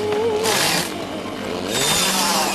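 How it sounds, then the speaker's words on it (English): A chainsaw cuts strips of wood on a roof, its engine whining loud and close in two sustained bursts that rise and fall with the cut. "The little strips of wood were cut off one by one."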